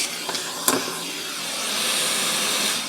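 A central vacuum hose works over a Rainbow D2 power nozzle, with a couple of sharp clicks and a thump of debris, then a steady close airy suction hiss that swells and holds.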